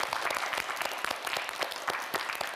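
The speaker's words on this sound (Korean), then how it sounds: "민경원 학생 수고했다고 여러분 큰 박수 보내주시기 바랍니다" A studio quiz show audience gives sustained applause for a student contestant, dense steady clapping from many hands at moderate distance with no speech over it.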